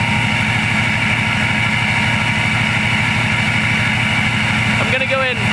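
A Ford 6.0 Powerstroke diesel fitted with a KC Turbos 10-blade turbo idles steadily indoors, a loud, even low-pitched rumble with rapid rhythmic pulsing, the turbo not yet spooling; a brief higher whine or voice-like sound rises near the end.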